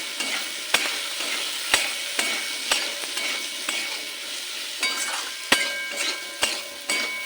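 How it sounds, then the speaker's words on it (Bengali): Cut brinjal fries in a pan with salt and turmeric, a steady close sizzle broken by regular sharp scrapes and taps of a spatula stirring against the pan, without any talking. "এই সময় দিয়ে দেব কেটে রাখা বেগুন তাহলে বেগুনটা একটু ভাজা ভাজা হয়ে যাবে"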